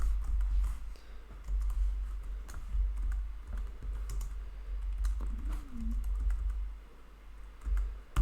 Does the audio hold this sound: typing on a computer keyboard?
yes